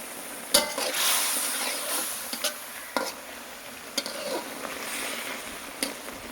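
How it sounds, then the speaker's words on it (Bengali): Eggplant, potato and beans frying together in a pan, a steady hiss and sizzle with sharp clicks and scrapes of a stirring utensil recurring every second or so, close and without talk. "সবজি রান্না হচ্ছে ভাজি বেগুন আলু আর সিম"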